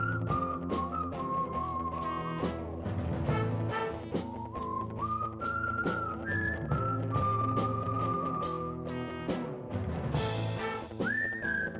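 A person whistles a wandering tune with long sustained notes and short trills, steady and close, with no talking.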